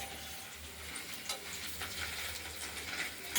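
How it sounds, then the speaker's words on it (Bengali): Paneer pieces fry in a kadai with a soft, steady sizzle and faint crackle, fairly quiet and continuous over a low background hum. "পনিরগুলো আমরা ভাজা করে নিচ্ছি।"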